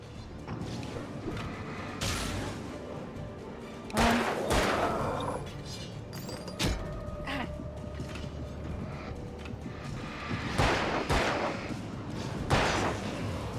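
Gunfire in the video game Alan Wake, several sharp loud shots spaced seconds apart over a low rumbling ambient game soundscape with creaks and mechanical noises.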